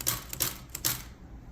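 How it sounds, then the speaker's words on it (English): A Royal KMM manual typewriter throwing its carriage return: a few loud, bright mechanical clacks and ratcheting swipes, close up, followed by a brief quieter tail, no voices. "Do your carriage return,"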